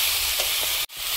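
Crushed garlic and vegetables fry in a hot pan with a steady, close sizzle and occasional stirring, broken by a brief dip near the end.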